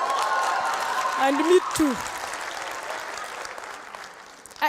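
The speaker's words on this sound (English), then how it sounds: "clap for yourself" An audience at a university event claps in a thin, scattered patter while someone speaks over it and a few other voices chime in.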